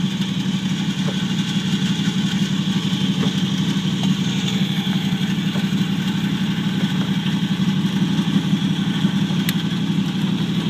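A 1949 Chevrolet Deluxe 4-door engine idles in a steady low rumble with a faint whirring throwout bearing noise, continuous and close, with occasional soft clicks.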